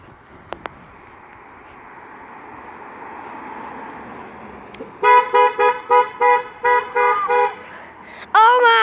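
A string of short car horn honks from passing cars on a street, several evenly spaced toots followed by a longer blast, loud and close after a stretch of quiet traffic hum.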